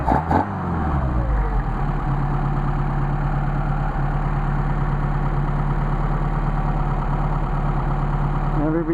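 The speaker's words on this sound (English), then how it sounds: "we got some really nice idling carburetors." Engine running on Solex 44PHH carburetors settles into a steady, loud, even idle after a brief startup burst, a constant low rumble held close throughout.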